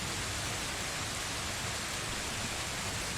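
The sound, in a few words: rain and gentle thunder background ambience effect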